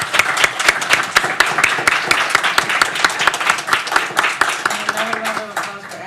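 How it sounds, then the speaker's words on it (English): An audience at a tech talk gives panelists a round of applause: crisp, closely spaced claps from a modest crowd in a regular rhythm, with a voice emerging under the tail as the clapping fades. "If you would all join me in a round of applause for them"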